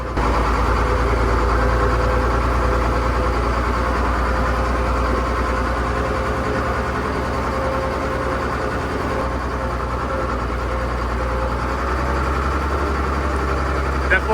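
An International 766 tractor with over 10,000 hours idles loud and steady, running rough on a down cylinder or two, its deep uneven rumble continuing throughout with no pause.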